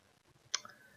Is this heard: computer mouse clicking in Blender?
yes